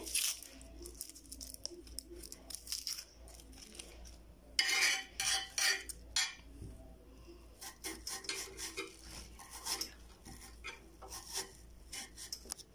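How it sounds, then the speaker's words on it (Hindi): Onion being cut with a knife on a board at home, a run of short crisp chopping and scraping strokes, some louder bursts in the middle, with faint clatter of utensils and no talking. "एक अनियन लेंगे और उसको इस तरीके से आप लोगों ने काट लेना है"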